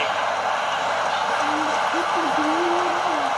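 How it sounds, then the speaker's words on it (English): Crowd at Singapore's National Stadium cheering a goal during an Indonesia versus Singapore AFF 2020 football match, a loud, steady roar of many voices throughout, with a commentator's voice weaving over it. "I haven't heard a goal that loudly cheered, look at that, in this new national stadium for Singapore than that one."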